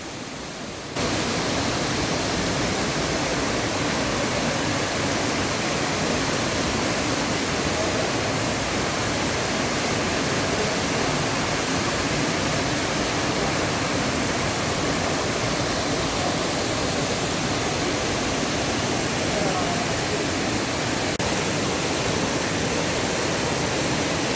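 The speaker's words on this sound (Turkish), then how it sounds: "Şelalenin döküldüğü alanda büyük miktarda su yeryüzüne çıkıyor." Düden Waterfall in Antalya roars with a large volume of falling water, a loud, unbroken broadband rush heard close up that starts abruptly and holds steady for over twenty seconds.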